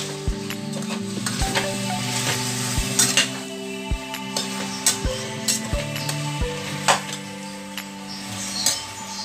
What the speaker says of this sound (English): And I'm going to fry my meat.